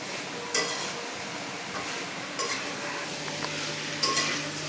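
Curry being sautéed in a kadai, a soft constant sizzle with a few sharp metallic clinks of the spoon against the pan at intervals, fairly quiet and without talk.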